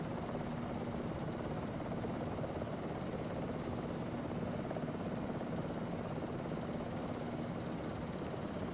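A V-22 Osprey tiltrotor hovers in the Microsoft Flight Simulator 2024 game, giving a steady, unbroken rotor and engine drone at moderate level with no voices.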